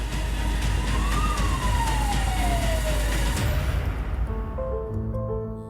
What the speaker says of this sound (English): As the crane's operational alert sounds